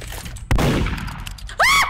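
Gunshot in the Roblox game Murder Mystery 2, a single sharp blast followed by a short rumbling tail, with a ringing electronic chime near the end.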